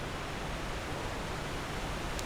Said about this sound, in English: Big loud waterfall.